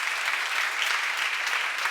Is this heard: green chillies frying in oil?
no